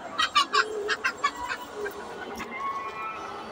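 Hens clucking in short rhythmic bursts close by at a home poultry coop where eggs were laid, the calls fading into quieter background bird sounds.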